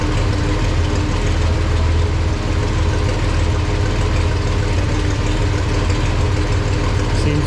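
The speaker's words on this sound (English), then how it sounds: "seems to be idling okay right now." Farmall 460 tractor engine idling, a loud, steady low-pitched rumble with an even knocking pulse, continuous and close throughout with no speech.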